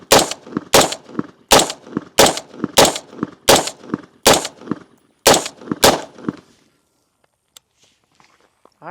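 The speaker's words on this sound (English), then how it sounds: "I think I'll just shoot this entire mag unsuppressed." An unsuppressed 10.5-inch ADM AR-15 rifle fires about ten sharp, loud, close shots at a steady pace, each with a short echo, then the firing stops and quiet follows.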